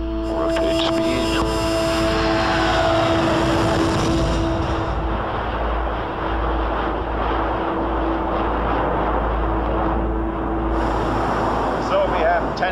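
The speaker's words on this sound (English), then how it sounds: "Okay, clear for takeoff. Here we go. Rotate speed." A NASA heavy jet aircraft on its takeoff roll down the runway, a loud steady engine roar with a sustained hum heard from inside the cabin throughout.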